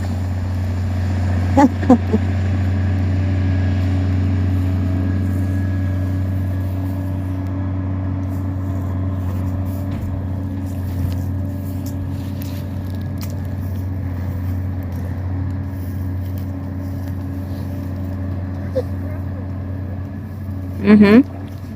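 A tractor engine drones steadily on a farm field, a low, even rumble that holds for the whole stretch, broken only by a couple of brief clicks and knocks, with voices occasionally present.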